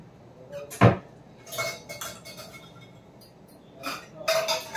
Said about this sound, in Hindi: मैं बना रही थी चाय और केतकी रख रही थी बर्तन